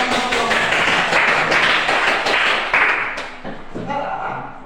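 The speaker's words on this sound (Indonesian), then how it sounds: "Beri tepuk tangan untuk kelompok." A classroom bursts into applause for a presenting group, dense, loud and close for about three seconds, then thins out into scattered claps and a few voices.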